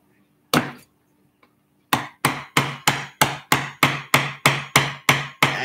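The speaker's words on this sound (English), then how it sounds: "I wish I had a little smaller chisel." Chisel tapped into wood while building a model plane from scratch: one sharp knock, then a steady run of about a dozen evenly spaced, close, crisp mallet strikes.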